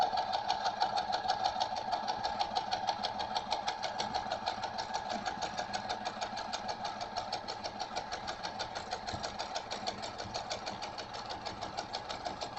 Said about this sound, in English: I'm just going to stitch it.